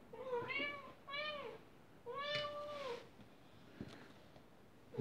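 A cat meows three times at close range. The first two meows are short and quick, and the third is longer and drawn out. Small handling noises follow, with no talk over them.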